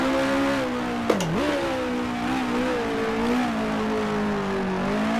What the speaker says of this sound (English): These lower power engines, you find yourself shifting a lot at a lot of tracks just to keep the engine in the power band